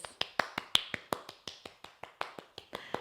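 Soft finger claps imitating rain during a family yoga and mindfulness session, a close, quiet series of crisp pops in a fairly regular rhythm, about five per second, alone without talk.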